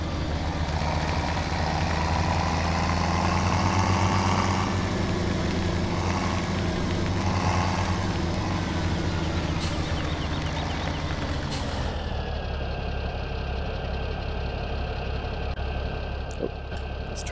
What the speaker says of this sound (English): Let's turn this engine off.